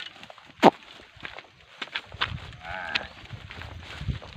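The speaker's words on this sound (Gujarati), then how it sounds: "ગાય" A cow lets out a short low moo in the open, with scattered shuffling and footstep-like thumps and faint background noise around it, no speech.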